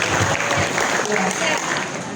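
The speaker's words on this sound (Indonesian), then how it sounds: "Oke, betul tepuk tangan dulu." Audience applause fills a university visit event hall, a dense steady clapping from a crowd lasting the whole stretch, with a voice speaking over it.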